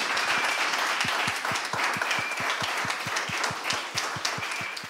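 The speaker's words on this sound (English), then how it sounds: "I think you all deserve one round of applause right now from everyone" An audience applauds the five final pitch teams at a live event, a sustained round of many hands clapping with a few distinct, rhythmic claps standing out up front.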